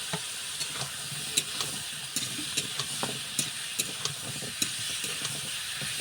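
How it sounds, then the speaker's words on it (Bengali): Potatoes dropped into spiced oil with turmeric, frying with a steady sizzling hiss while a utensil stirs them in intermittent scraping clicks, close and moderately quiet throughout. "হলুদ দিলে একটু নেড়ে নিতে আলুটা ফেল দিলাম"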